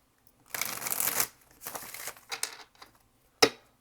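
Several bursts of tarot cards being riffled and bridged, crisp papery flutters close up, followed by a single sharp snap near the end.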